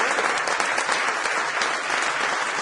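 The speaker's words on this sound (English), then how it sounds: "give a big round of applause to Jim Francis." A standing audience at a sales workshop gives a big round of applause, a dense, steady wash of many hands clapping that holds at full strength throughout, with no talking over it.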